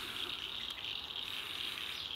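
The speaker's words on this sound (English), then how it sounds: "I think I'm being drowned out by frogs" Frogs calling at night, a dense, continuous high-pitched trilling chorus that fills the background evenly, with no pauses and no voices over it.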